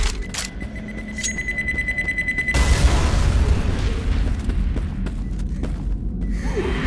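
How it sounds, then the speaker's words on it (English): A pipe bomb in the Left 4 Dead 2 video game bursts with a loud deep boom that rolls into a long rumbling tail, following brief game beeps and clicks beforehand. "Pipe bomb out."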